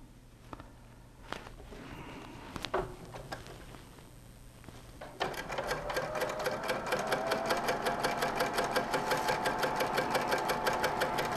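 A sewing machine stitches the final seam joining a quilt block into a full circle, starting after a few handling clicks and settling into a fast, steady, close rhythmic needle chatter.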